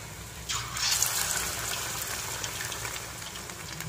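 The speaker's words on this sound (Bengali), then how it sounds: "তিনটে মাছ আমি এর মধ্যে দিয়ে ভেজে নিচ্ছি।" Small battered topse fish frying in hot oil in a pan over a medium gas flame; a steady, loud sizzle surges in after half a second and hisses on continuously, with no talking.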